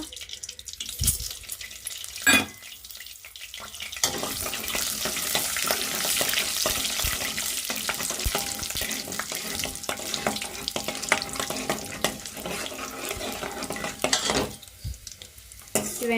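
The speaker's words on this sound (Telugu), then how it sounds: "ఇంకా తాలింపు వేసుకోవడానికి వెండి మిరపకాయలు ఇంకా అలానే ఆవాలు మినప్పప్పు జీలకర్ర ఇంక మొత్తం అయితే బాగా ఫ్రై చేసుకోవాలి" Red chillies, mustard seeds, urad dal and cumin fry in hot oil with a steady close sizzle and crackle, broken by brief quieter gaps and stirring clatter.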